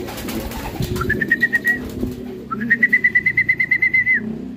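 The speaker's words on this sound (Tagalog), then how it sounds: "ito yung sixth bird natin, si Violet." Racing pigeon at a loft during a summer race from Pagbilao, Quezon gives two clear whistled tones, a short one then a longer sustained one with fluttery pulses, over background rustling and low noise.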